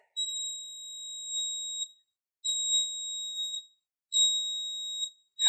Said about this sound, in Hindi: आप यहाँ पे देखेंगे कि हमारा लाइट भी जल रहा है और बीप भी बज रहा है।